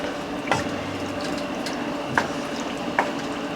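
Water poured into a pan of chicken adobo cooking over heat gives a steady liquid hiss and bubbling, with a few soft splashes and clinks, close and moderately quiet.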